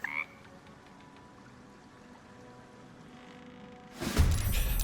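Frog croaks in Baldur's Gate 3, a low ambient bed with a brief chirp at the start, then a loud burst of croaking and splashy noise in the final second.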